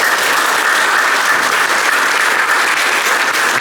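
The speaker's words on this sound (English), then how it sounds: "let's just give him one more round of applause" An audience at a business networking event gives sustained applause, loud and dense clapping from many people with no break.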